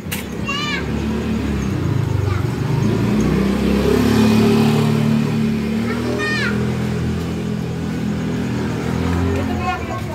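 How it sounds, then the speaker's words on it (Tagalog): A motorcycle passes at mid distance with a steady engine drone that swells and fades, alongside children calling out and outdoor chatter nearby. "Oh, may motor."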